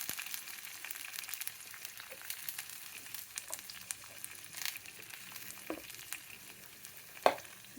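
Onions and green chilli slivers fry in a pan on a home stove after mustard-seed tempering, giving a steady soft sizzle with scattered stirring clicks and one sharper utensil knock near the end.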